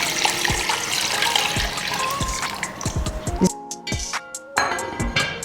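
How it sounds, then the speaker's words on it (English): Water is poured into a pot of beans being readied for boiling, a steady trickling and splashing stream with a few light clinks of the pot, close by with no talk. "Add some water to boil it."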